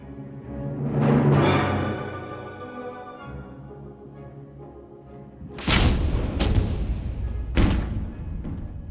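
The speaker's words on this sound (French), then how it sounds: "Les canons des navires de guerre se mesuraient aux batteries côtières allemandes." Heavy warship guns fire at German coastal batteries during the 1944 Normandy landings, deep booming blasts, three sharp, loud reports ringing out in the second half after a rolling, rumbling stretch.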